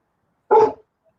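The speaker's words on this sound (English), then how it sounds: "We'll give Jenny a second to quieten the dogs down" A single sharp bark from one of two dogs, a Staffordshire bull terrier and a staffy cross, rings out close and loud, then silence.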